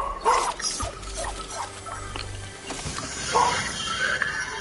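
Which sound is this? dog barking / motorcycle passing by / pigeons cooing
dog barking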